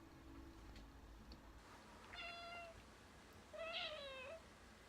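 A cat in a played video gives two distinct meows, the second louder and more strained, heard alone against a quiet hissy background.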